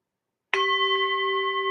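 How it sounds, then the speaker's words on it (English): A bell is struck once during a card game while players pick their numbers: a single clear, bright ring that starts sharply after silence and rings on steadily, close and alone. "Bob, ring the bell while everyone's picking their numbers"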